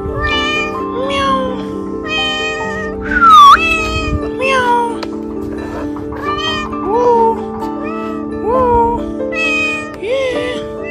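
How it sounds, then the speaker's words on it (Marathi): A pet cat meows repeatedly, a series of close, loud, drawn-out calls with rising and falling pitch, heard over a steady background hum. "हे मांजर बघा मित्रांनो, यांचं पाळीव मांजर आणि कुत्र."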